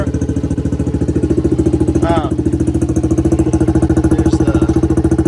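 An ATC70 three-wheeler fitted with a CRF110 engine idles steadily while warming up, its close, loud, even exhaust pulse holding the same rhythm throughout with a couple of brief chirps above it.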